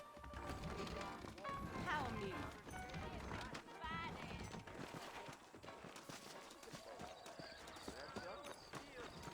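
Horses clip-clop along at a steady trot in Red Dead Redemption, hooves rattling fairly close under busy game ambience and a talking voice, with an occasional whinny.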